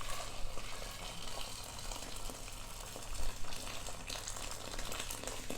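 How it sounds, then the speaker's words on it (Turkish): Boiled water is poured over figs in a pot, a soft bubbling, gushing stream of water that runs steadily and fairly quietly, with no talking. "İncirlerin üzerine kaynamış su ekliyorum."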